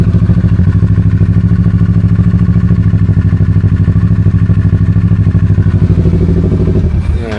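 A Kawasaki Z650 motorcycle engine idles steadily and loudly while warming up, a close, even rumble with a faint clatter, throttle easing off near the end.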